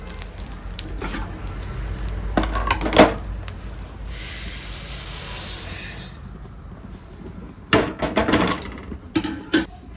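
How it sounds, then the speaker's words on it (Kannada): Roasted spices for homemade rasam powder are tipped and scraped into a metal vessel, giving clinks and metallic scrapes with a soft hissing stretch in the middle and more clattering strikes near the end. "ಇವಾಗ ಪೂರಿ ಸಿಮ್ ಮಾಡಿಬಿಟ್ಟು ನಾನು ಇವಾಗ ಪಾತ್ರೆಗೆ ಬದಲಾಯಿಸ್ಕೊತಾ ಇದ್ದೀನಿ"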